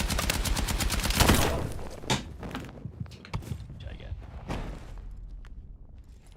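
Gunfire from a gun in Battlefield 6: a fast burst of automatic shots opens the moment, followed by scattered thuds and single impacts, with a voice talking over it.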